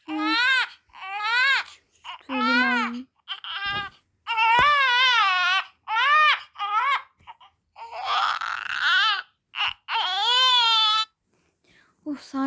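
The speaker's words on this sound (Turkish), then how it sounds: "anneciğim niye ağlıyorsun?" A crying baby character in the Toca Boca video game wails in a string of loud, wavering sobs, broken by short pauses across the whole stretch.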